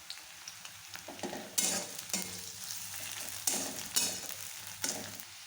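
Garlic paste frying in a pan for a banana-flower and prawn dish, soft steady sizzle broken by several louder scraping stirs at irregular intervals, close and without talk.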